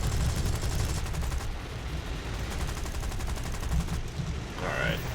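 Rapid bursts of automatic fire from British Hispano aircraft cannons in a War Thunder game crackle continuously over a low rumbling engine drone, with a brief high whine near the end.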